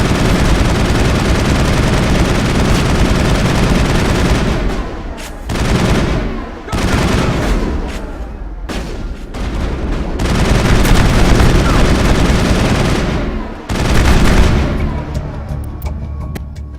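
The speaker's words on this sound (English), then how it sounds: "Open fire. Open fire!" A video game shootout erupts in dense, sustained gunfire, loud overlapping automatic bursts and booming shots with only brief lulls, and voices shout faintly beneath the barrage.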